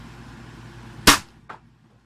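A toy dart blaster fires once indoors, a sharp loud pop followed half a second later by a fainter thud as the dart lands across the room.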